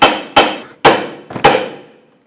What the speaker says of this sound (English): tap the knuckle right here so it can release the ball joint stud